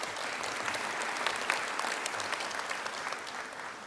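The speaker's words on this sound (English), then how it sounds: "That's right, you can clap." A commencement ceremony crowd claps steadily, a dense wash of many hands that holds evenly throughout without any speech.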